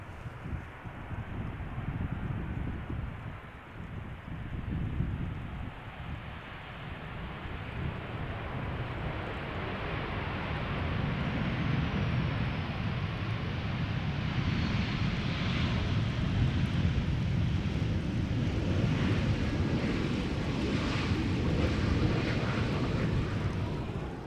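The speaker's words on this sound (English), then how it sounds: "737-800 arriving from Munich." A KLM Boeing 737-800 arriving at Schiphol from Munich gives a loud, sustained jet roar that swells and holds steady for over twenty seconds, broad and rushing with some wind buffeting on the microphone.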